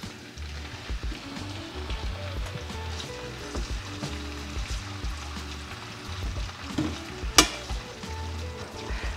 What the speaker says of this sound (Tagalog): Tapos dito ko na din piprituhin tong hotdog.